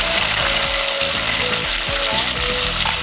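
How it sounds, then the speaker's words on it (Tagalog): Chicken frying in a pan for adobo, a loud dense continuous sizzle and spatter with a faint rhythmic mechanical whirr underneath, close and unbroken. "Natin maprito yung chicken, then takpan muna natin."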